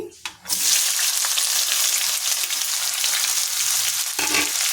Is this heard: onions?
yes